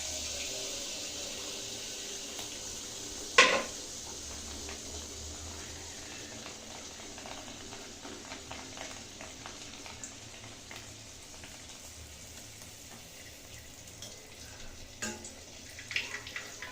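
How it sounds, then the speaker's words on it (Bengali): Date-jaggery pua pitha fry in hot oil in a wok, a steady close sizzle and bubbling with a sharp clatter near the start and a few small knocks later, with no talk. "পিঠা ভাজার জন্য আমি একটা কড়াইতে তেল গরম করে নিচ্ছি"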